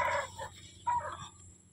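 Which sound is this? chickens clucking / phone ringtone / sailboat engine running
chickens clucking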